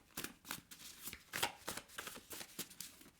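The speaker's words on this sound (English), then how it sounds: "these cards are a real pleasure to shuffle" Naibi tarot cards are shuffled over and over in quick riffles, a soft, close, rhythmic flutter and snap with no other sound around it.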